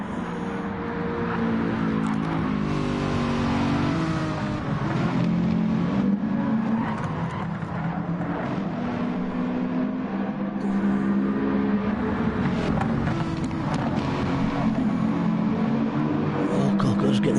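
Race cars in a PS4 racing game drone continuously with engine whine rising and falling as they chase each other closely, a steady layered motor roar with no pauses.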